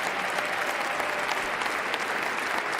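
A large audience applauds steadily, dense continuous clapping from a crowd filling the room at an even, sustained level with no voices on top.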